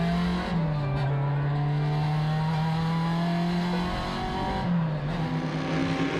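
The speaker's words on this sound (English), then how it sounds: "we decided that it would be prudent for us to get the RSX out to Shannonville to do some testing the week before the race" An Acura RSX race car runs test laps at Shannonville track, its engine holding a loud, steady high-revving drone close by, with brief dips in pitch at the upshifts and no talk over it.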